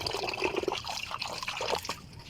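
Water heating in a pot while cooking gives a busy bubbling and gurgling with irregular pops, moderately loud and steady throughout, with no talking.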